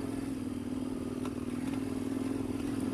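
A KTM 1090 Adventure R motorcycle engine drones steadily while riding over a rocky off-road section in second gear, with faint clatters of stones and suspension over the constant hum.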